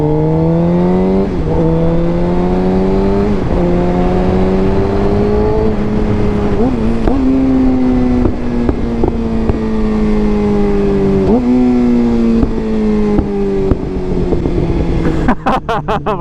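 A Suzuki GSX-R sport motorcycle engine howls loud and close while riding at speed in third gear, its pitch climbing in sweeps and resetting with each gear change, with wind roar underneath.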